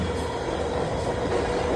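A long train rumbling steadily past near Multnomah Falls, a continuous low roar with rattling wheels, constant and fairly close, with no voices over it.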